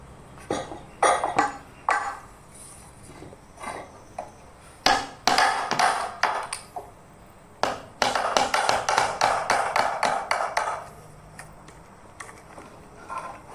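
A chisel is tapped into a joint of a wooden window frame, sharp close knocks in uneven clusters, some single and some in quick runs of eight or ten, fairly loud with quiet gaps, no voices.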